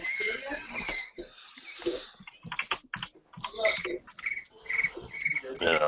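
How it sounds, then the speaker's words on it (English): A cricket-chirp ringtone goes off on a phone, with bursts of rapid high chirps repeating at a steady pace, mixed with nearby talk and rustling. "I just hear a cricket."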